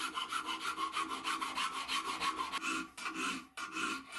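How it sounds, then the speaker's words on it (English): A wooden flintlock pistol stock clamped in place is shaped by hand with a rasp, giving close, rhythmic scraping strokes in a quick back-and-forth pattern, with a couple of brief pauses near the end. "So I can clamp that stock up and start shaping it."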